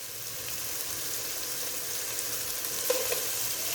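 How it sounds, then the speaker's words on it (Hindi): Chickpeas fry in a pan of oil for aloo chana chaat, giving a continuous close hiss and sizzle with a couple of light stirring clicks near the end. "अब यहाँ मैंने चने इसके अंदर डाल दिए और 1 मिनट के लिए हम करेंगे चने फ्राई।"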